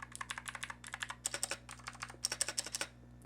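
Fast, steady keystrokes on a budget iLovBee i61 60% mechanical keyboard, with crisp, slightly hollow clicks in quick bursts close to the mic over a low electrical hum, no voices.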